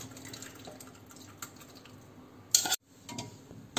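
Bael (wood apple) juice strained through a sieve into a glass bowl, with soft drips and liquid trickling close by, light clinks of a utensil against the bowl and one brief louder clatter near the end.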